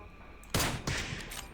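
Two loud bursts of gunfire in quick succession in PUBG, sharp and full, followed by a lingering noisy tail; sounds like game audio.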